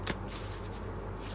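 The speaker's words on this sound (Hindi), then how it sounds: "ये कार्ड्स ना हैंडल करना थोड़ा मुश्किल है, काफ़ी बड़े हैं।" Large tarot cards are handled and shuffled, giving a soft close papery riffle with a sharper flick near the start, over steady room noise and without speech.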